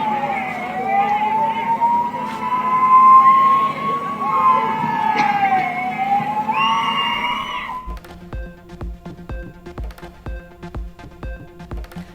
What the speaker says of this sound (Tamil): ஆம்புலன்ஸ் வருது, வழி விடுங்கப்பா.